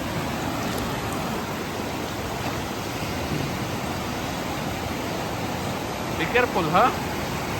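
Strong sea waves wash and surge in a steady broadband roar at sea during fishing, with a voice speaking briefly over it near the end.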